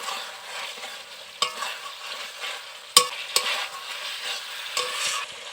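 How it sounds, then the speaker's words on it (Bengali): Fried cauliflower florets are turned through sautéed spices in a sizzling pan, with a soft hiss under repeated scraping strokes and a few sharp clinks of the spoon against the pan. "এখন এর মধ্যে ভেজে রাখা ফুলকপিগুলোকে দিয়ে দিতে হবে, দিয়ে একটু ভালো করে নাড়াচাড়া করে নেব।"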